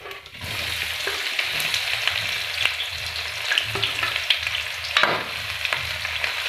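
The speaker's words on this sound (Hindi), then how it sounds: "प्याज को हम ब्राउन होने तक रोस्ट कर लेंगे।" Chopped onions fry in oil with cumin seeds, cardamom and cinnamon, browning for a village-style white lobia masala. A steady close sizzle runs throughout, broken by regular scraping stirs, with no talking.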